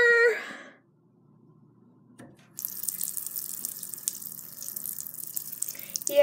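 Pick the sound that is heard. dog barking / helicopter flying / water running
water running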